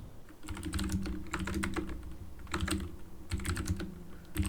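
Computer keyboard typing at a terminal, including backspace presses: bursts of quick clicky keystrokes in several clusters, close and fairly quiet, with brief pauses between runs.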